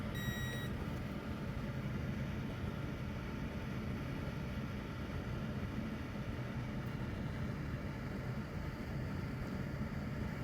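A multimeter set to diode mode beeps while testing a fuse on a Gigabyte 3080 Ti graphics card. One short, clear beep sounds at the very start, followed by a steady low background hum.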